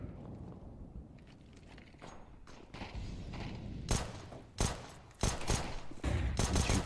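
Gunfire in a competitive video game match during a European pro league round, sharp rapid shot bursts and sprays coming in clusters over background game noise, growing louder toward the end.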